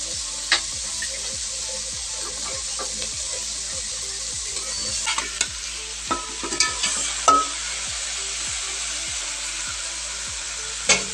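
Fish goes into a hot pot while cooking sinigang sa miso with maya-maya (red snapper) head, giving a steady sizzle and frying hiss with a run of regular clicking stirs and a few sharper clatters.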